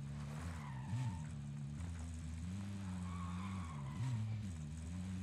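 A video game vehicle driving and skidding, steady engine drone with wavering pitch and intermittent tire squeals, close and moderately loud with no talking.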